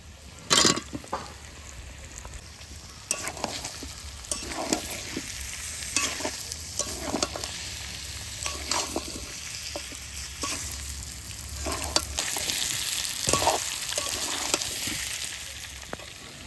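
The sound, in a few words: potatoes being fried and stirred in a pan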